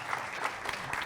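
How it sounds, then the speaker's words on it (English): Warm audience applause welcoming a speaker at a business sustainability conference session, a brief, even patter of many hands clapping at moderate volume. "why don't we welcome up with a warm round of applause"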